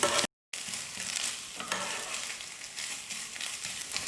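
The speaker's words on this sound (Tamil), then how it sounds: "தேங்காவை சேர்த்ததுக்கப்புறமா ஸ்டவ்வை லோ ஃப்ளேமில் வச்சுக்கிட்டு ஒரு 30 செகண்ட் நம்ம மிக்ஸ் பண்ணிக்கிட்டால் போதும்" Coconut pieces stirred in a pan on low flame, a faint steady sizzle with soft scraping strokes throughout, broken briefly by a moment of silence near the start.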